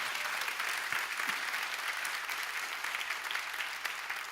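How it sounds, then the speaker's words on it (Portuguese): Steady applause from a church congregation fills the space, a dense even wash of many hands clapping with no voices standing out. "Uma salva de palmas novamente, que ele vai bem forte"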